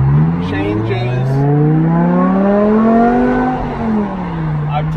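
A BMW M6 set to its 505-horsepower M mode with stability control off accelerates hard, the engine note rising loud and close through a gear change with a steady throaty roar.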